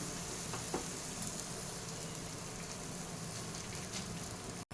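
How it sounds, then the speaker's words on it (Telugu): A chapathi fries in a pan for a homemade egg roll, giving a steady, close crackling sizzle that runs unbroken throughout with a few faint knocks. "ఇలా చపాతీని ఫ్రై చేసుకోవాలి"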